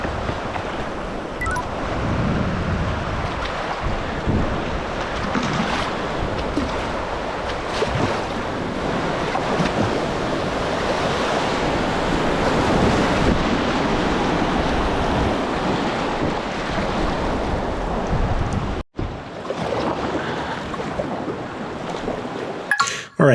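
Roaring whitewater of Killer Falls on the Lower Youghiogheny River, a broad continuous rush of churning rapids with wind buffeting the microphone, steady and loud throughout with a brief dropout near the end.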